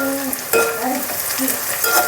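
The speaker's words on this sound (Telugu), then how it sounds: "చూడండి ఇంకా ఫ్రై చేస్తున్నా" Onions fry in plenty of oil in a pan, browning for an Andhra chicken curry. A loud, close sizzle runs throughout, broken by scraping stirs.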